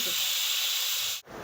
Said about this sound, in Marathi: सो ही बघा चांगली उकळी आलेली आहे